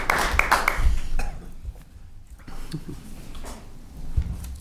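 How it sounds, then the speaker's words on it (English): Applause from attendees at a June school committee meeting, with a burst of clapping at the start that soon thins into scattered claps amid room noise. "another round of applause"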